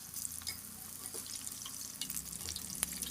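Banana flower vadas fry in hot oil with a steady, quiet bubbling sizzle and occasional soft stirring clinks, close by and continuous, no talking.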